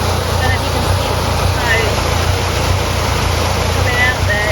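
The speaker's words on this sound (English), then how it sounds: "The engine is making a funny noise and smoking." A narrowboat's diesel engine running poorly and smoking, making an odd noise as a steady, loud low throb with a rough texture outdoors on a canal, with some wind noise on top.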